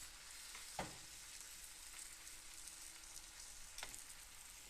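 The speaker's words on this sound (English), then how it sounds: "While the sausage is browning," Vegan Beyond Meat Italian sausage browns in a pan, giving a steady, quiet sizzle with a couple of sharper clatters from stirring, no voices over it.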